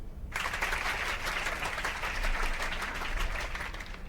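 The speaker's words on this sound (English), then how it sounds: "A round of applause, everyone." Steady applause from a crowd in a visual novel video game, clapping evenly throughout at a moderate level, with no voices standing out.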